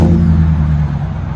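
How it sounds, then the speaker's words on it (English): Supercharged GMC Sierra Denali 6.2L V8 with a Magnaflow exhaust gives a steady, deep, close engine rumble with strong low harmonics, held evenly throughout the brief moment with no talk. "Let you guys hear it on the GMC Sierra Denali Supercharged"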